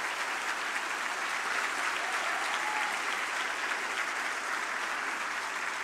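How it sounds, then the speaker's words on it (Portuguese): Sustained applause from an audience at a political speaking event in Brazil, dense steady clapping filling the room for several seconds without pause, fairly loud and even throughout. "Vocês merecem, junto com Davi Agap, a maior salva de palmas por estar fazendo o trabalho."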